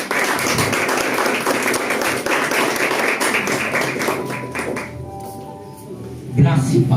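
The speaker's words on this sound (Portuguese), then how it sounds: "Aplauda Jesus." A congregation applauds during a Sunday church service, with loud, dense clapping for about five seconds that then thins out, leaving faint tones and a brief thump near the end.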